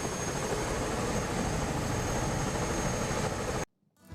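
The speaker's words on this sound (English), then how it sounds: "Now we're in the chopper," Helicopter flying over southern Tasmania, heard from inside the cabin as a loud, steady broadband rotor and engine roar with no talk, cutting off abruptly near the end.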